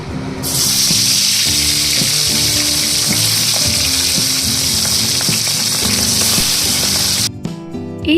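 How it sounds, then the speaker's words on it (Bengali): Catla fish heads coated in salt and turmeric fry in hot oil with a loud, dense, continuous sizzle that carries on steadily and then cuts off abruptly near the end. "সেটাকে ভালো করে ধুয়ে জল ঝরিয়ে তাতে নুন আর হলুদ মাখিয়ে ভালো করে ভেজে নিতে হবে।"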